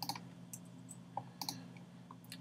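Computer keyboard keys click in short, scattered taps during an animation software tutorial, faint and close over a steady low hum.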